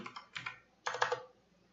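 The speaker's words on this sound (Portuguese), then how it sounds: "vou estar digitando outro comando aqui" Someone types on a computer keyboard in a quiet room, two short bursts of quick key clicks, close and fairly soft, with no talking.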